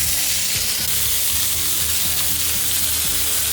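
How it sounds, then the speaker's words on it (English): Steady loud sizzling of food frying in a very hot preheated pan, a constant crackling hiss with occasional stirring or shifting sounds, no voices. "Probably a little bit too preheated it. Just looking for that good sizzle."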